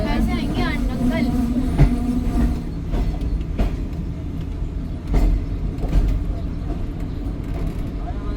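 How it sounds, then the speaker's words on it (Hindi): The Karachi Express train stands at a station, giving off a low rumbling hum with clanks and thuds, while people talk over it. "कराची एक्सप्रेस इधर रुकी हुई है शायद"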